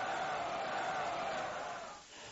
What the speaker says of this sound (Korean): 거리는 찬탁과 반탁의 함성이 뒤섞인 가운데 격렬한 충돌이 빚어졌다.